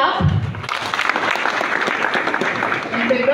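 Audience applause at a swearing-in ceremony, sustained crowd clapping after a brief voice at the start, filling the room throughout.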